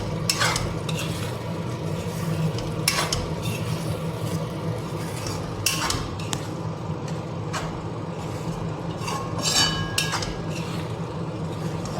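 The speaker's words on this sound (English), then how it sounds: "Give it a mix." Palak paneer being stirred in a pan after a handful of kasuri methi goes in, with steady scraping strokes and soft sizzling over a constant stove hum, near and moderately loud, no talk.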